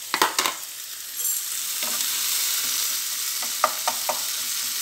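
Chicken frying and being stirred in a pan, with steady soft sizzling throughout and several sharp scraping stir strokes near the start and again toward the end.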